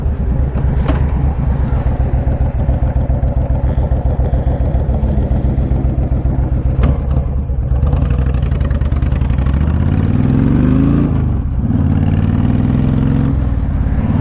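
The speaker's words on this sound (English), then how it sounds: "If this didn't have such loud pipes, my dad would like this bike." A cruiser motorcycle with loud pipes idles with a deep, loud rumble, then revs up and settles back, steady and close throughout.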